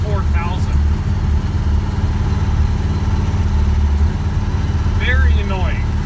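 A wood gasifier truck engine running at high RPM makes a loud, continuous droning hum with steady low throb inside the cab, while someone talks over it throughout.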